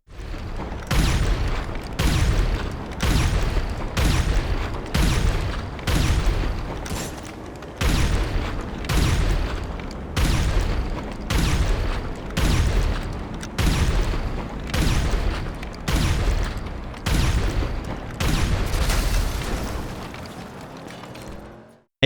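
Railgun shots hitting a Night Shark armored vehicle in GTA Online, about twenty heavy booming blasts fired at a steady, evenly spaced rhythm, loud and close with no talking, ending in a final descending rumble.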